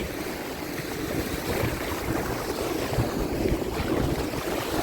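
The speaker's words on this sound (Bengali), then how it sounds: "ঢেউ কিন্তু ভালোই আছে তোমরা দেখতে পাচ্ছ এই মুহূর্তে" Sea waves surge and wash continuously at Bakkhali beach, mixed with heavy wind rumbling against the microphone, loud and unbroken throughout.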